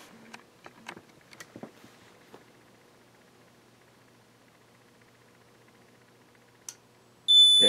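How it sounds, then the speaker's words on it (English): A few scattered clicks and taps, then near the end a sudden loud, piercing electronic alarm tone starts abruptly from a 4-wire smoke detector set off with canned smoke. "let's demonstrate the smoke detector here"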